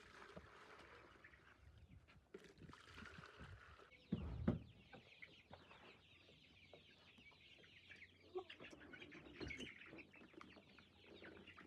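Layer hens cluck and murmur around water drinkers while being given an IB and ND vaccine in the water on a poultry farm, a busy flock chorus with a louder burst of activity in the middle.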